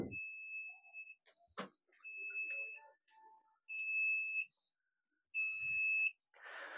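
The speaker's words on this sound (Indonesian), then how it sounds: "buzzer alarm ini akan mati secara otomatis" A buzzer alarm on a solar power (PLTS) control system sounds in several intermittent high-pitched electronic beeps of varying length, separated by short silences, with a faint voice briefly heard.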